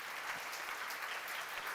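A congregation at a church sermon claps together in a dense, even burst of applause, brief and moderately loud with no voices on top.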